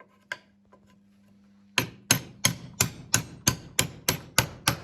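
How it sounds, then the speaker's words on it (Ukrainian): A steady series of about nine sharp hammer blows driving a wooden part of a bed into place, evenly spaced and close, after a brief quiet stretch with a faint hum. "А під молотком дуже легко"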